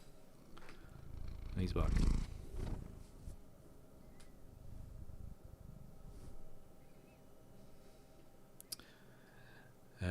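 A cat purring close by, a low rumbling swell that peaks near the start and then settles into a softer steady purr while a person talks over it.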